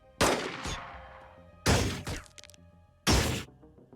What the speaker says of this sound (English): missed both shots